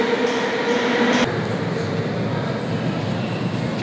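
A Moscow metro train rumbles through the station, a steady, loud underground roar with a brief louder surge near the start.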